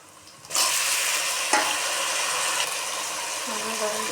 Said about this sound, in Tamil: வெங்காயம் வதங்கிருச்சு. தக்காளி போட்டுக்கிடுவோம்.